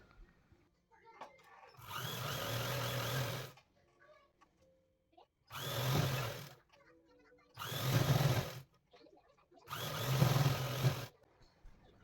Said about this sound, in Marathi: या मार्किंगपासून शेवटपर्यंत शिलाई पूर्ण करणार आहोत